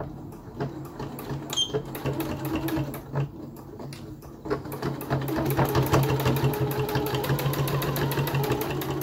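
Close, steady whirring of a sewing machine backstitching a fabric face mask, short stop-and-go stitching that builds into a longer continuous run, with faint clicks of the mechanism throughout.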